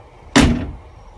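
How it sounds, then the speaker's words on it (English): BMW E46 330Ci Clubsport car door shutting with a single solid, close thud that fades quickly into quiet. "I'm going to close this door in 3, 2,"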